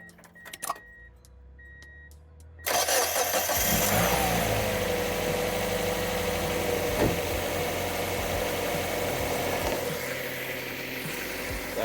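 A Mazda MX5 engine cranks and catches, then settles into a loud, steady close idle that drones on with slight fluctuations, after a few quiet clicks and beeps from the car beforehand.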